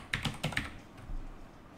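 Typing on a computer keyboard: four quick, close, crisp key clicks in a short burst, then quiet.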